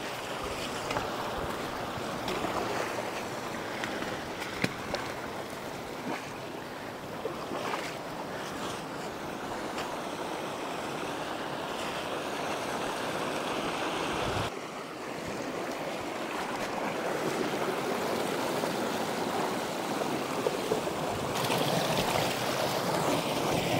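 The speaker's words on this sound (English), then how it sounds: "Imagine how much water been flowing out already." Water rushes steadily out through a breached beaver dam at a homestead in the woods, a continuous broadband gushing roar that holds close and loud throughout.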